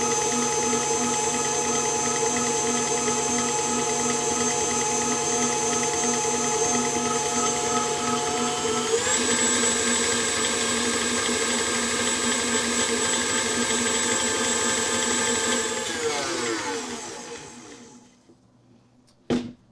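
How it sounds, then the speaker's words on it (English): A kitchen mixer whips homemade natural deodorant into a cream. The motor whirs loud and steady for about sixteen seconds, shifts pitch briefly midway, then winds down and stops. "You can see it start whipping together."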